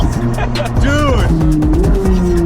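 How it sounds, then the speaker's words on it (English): Harley-Davidson Road Glide, a 2024 model, downshifting with its engine note dropping and rising in several quick stages up close and loud, while people talk over it. "the downshift are insane"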